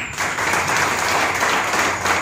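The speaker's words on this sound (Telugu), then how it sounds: "ఈరోజు క్లాప్స్ కొడుతున్నారు" An audience claps steadily and densely throughout a short stretch at a business training talk, loud and continuous.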